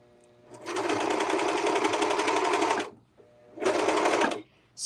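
A serger runs in two steady sustained bursts while sewing in a circle, the first long and continuous, a short pause, then a second shorter run, with a brief sound at the very end.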